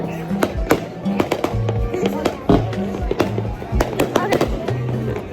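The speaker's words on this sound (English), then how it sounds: "Okay, so there's currently fireworks." Fireworks bursting near a beach, a rapid irregular series of loud sharp bangs and crackles with some deeper booms, close by and continuous over background chatter.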